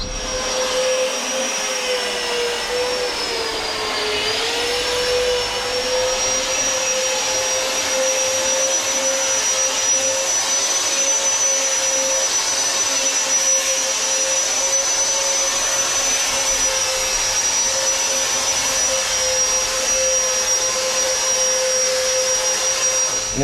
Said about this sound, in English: That was a power float. You can see it's a bit faster and it's less strenuous on the body